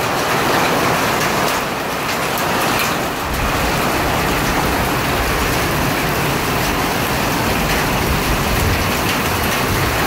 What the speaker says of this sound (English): I do hear hail hitting the carport right now.